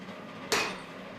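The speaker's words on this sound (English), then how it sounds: "This hammering is to compress the layers of iron and steel." A single sharp hammer strike rings out on layered iron and steel being forged, a close metallic clang that decays quickly into a quiet background.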